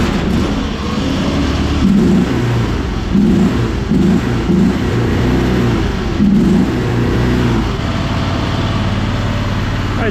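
A Fland FL45 wheel loader, a cheap Chinese machine, runs its diesel engine at full throttle, a loud steady roar with rhythmic surging pulses, close by and continuous with no talk.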